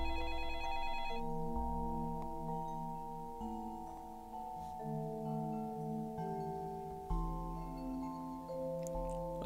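A telephone rings inside a voice-phishing themed video game: repeated electronic ringtone phrases with melodic tones, steady and fairly quiet, with no talking.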